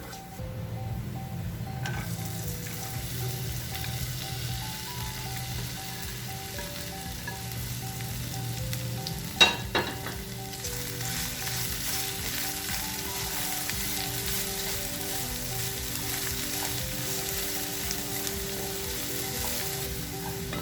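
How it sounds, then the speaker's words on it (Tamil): Onion, curry leaves and okra sauté in a pan with a continuous close sizzle for the whole stretch. A single utensil clink comes midway. "வெங்காயம் இந்த மாதிரி பொன் நிறமானதும் வெண்டைக்காய் சேர்க்கலாம்."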